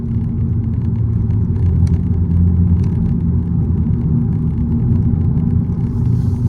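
A 2025 Honda Civic e:HEV takes a corner, heard from inside the cabin as a steady low road rumble and drivetrain hum with no talking.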